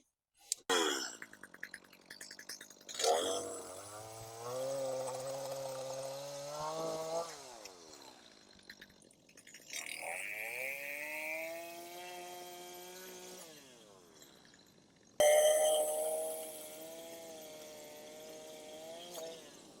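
A power drill fitted with a large 1 3/8-inch Forstner bit bores into wood in several separate bursts, its motor whining and bogging as the bit cuts, with pauses between passes and close, fairly loud sound.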